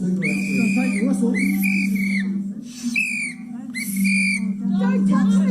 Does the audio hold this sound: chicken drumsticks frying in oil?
no